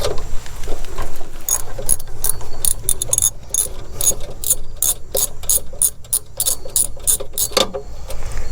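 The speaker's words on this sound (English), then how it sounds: "we're going to take the spark plug out" A ratchet wrench clicks in rapid bursts while removing a spark plug from a V-twin engine, loud and close, with short pauses between strokes and no voices.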